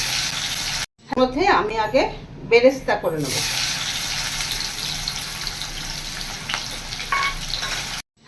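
Onions fry in oil for beresta while a dish of rui fish is prepared. A steady close sizzle runs under a voice, then continues alone for several seconds.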